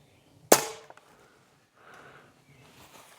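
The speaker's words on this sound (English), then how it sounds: "Let's do the Avenger 25 cal here first." One sharp, close shot from an Avenger .25 caliber PCP air rifle, a crisp snap with a brief decay, followed by faint rustling and handling noises.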